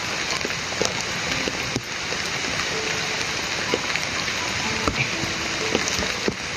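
Steady rain falls on a surface with a dense, continuous patter and scattered louder drops, the downpour sounding close and even throughout, with no talk over it.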